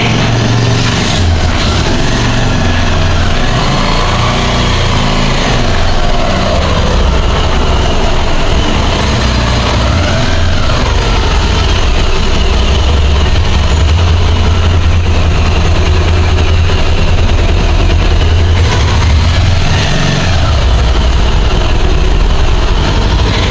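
A motorcycle engine idles steadily and loud, close by indoors, its low rumble running unbroken for the full length without any talk over it.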